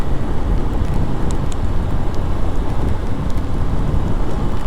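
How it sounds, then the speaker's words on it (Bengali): Raindrops fall during a motorbike ride on the Dhaka to Chittagong road, making a continuous, dense hiss of rain mixed with rushing wind at a steady, fairly loud level. "এখন অলরেডি বৃষ্টির ফোঁটা ভালোই পড়তেছে"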